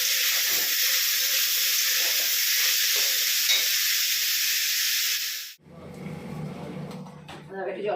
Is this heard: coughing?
no